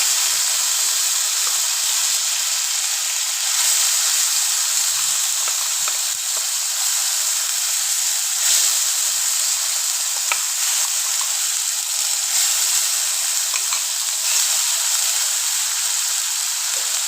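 Green chillies fry in hot oil, giving a steady, close, continuous bright sizzle and crackle with scattered small pops, heard alone without voices throughout.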